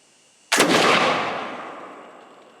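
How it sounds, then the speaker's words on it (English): A Model 1777 French flintlock hunting musket fires once outdoors, a sudden loud blast that rolls away in a long fading echo. "First shot fired."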